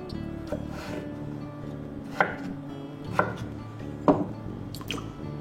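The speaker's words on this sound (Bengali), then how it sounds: "আলুগুলো খোসা ছাড়িয়ে ধুয়ে চৌকো করে কেটে নেবে।" Peeled, washed potatoes being cut into 1.5 to 2 cm cubes with a knife on a board, heard as about five distinct, close knocks spaced a second or so apart over a quiet kitchen background.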